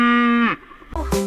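A cow moos loudly and close by, one long harmonic low that slides downward, then a second shorter call begins after a brief pause.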